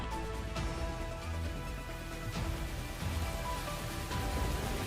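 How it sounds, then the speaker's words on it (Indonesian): Rain falling on a pavilion, a steady dense hiss of drops hitting the surface throughout, with no voices. "rapa saat kemudian, setelah kepergian Hajin, hujan pun telah turun membasahi pavilion itu"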